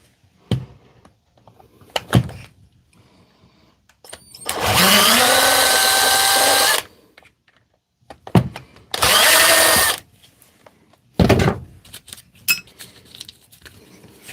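A power driver backs screws out of a Milwaukee or Makita tool under repair: three separate bursts of rising, whining motor spin, the first two lasting a second or more, separated by quiet clicks and handling knocks.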